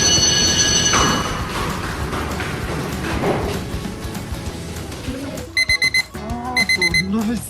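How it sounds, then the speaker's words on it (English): Cellphone alarm tone ringing in a modern Filipino home, entering after a stretch of busy background music as a repeating series of short bright electronic beeps in two quick bursts, clear and close. "Buti na lang, my cellphone on alarm."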